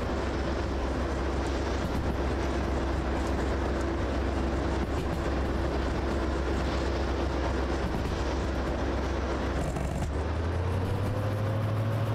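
A Yugoslavian shunter locomotive in Derail Valley runs with a steady, loud diesel drone and rumble, holding constant before the engine note shifts and rises near the end.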